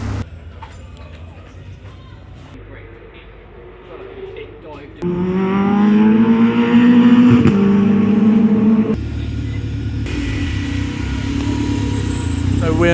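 Race cars circulating during BTCC (British Touring Car Championship) qualifying, engines droning and rising in pitch as they pass close by, loud and continuous from midway, over softer engine and crowd noise beforehand.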